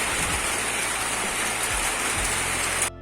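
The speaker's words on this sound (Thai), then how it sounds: "นี่บรรยากาศพายุเข่านะครับ ฝนตกฝนลินนะครับ" Heavy storm rain pours down steadily outdoors, a dense, loud, unbroken wash of drops hitting surfaces that cuts off abruptly near the end.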